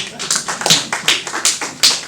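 Audience clapping for a woman at a Ghanaian fish farmers' training session, loud rhythmic claps landing in a steady beat.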